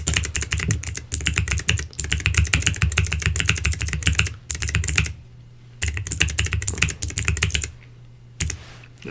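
Rapid typing on a computer keyboard clatters up close in dense bursts of clicks, with two short pauses of near silence between runs.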